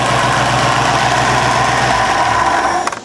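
A 1964 Ford F100 pickup's engine idles with a steady, loud rumble and vibration, dropping away sharply at the end as it is shut down.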